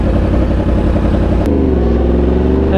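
A Yamaha R1 motorcycle fitted with an SC Project exhaust, loud and close, with a rough rumbling beat that abruptly shifts into a steady, deep idle drone partway through.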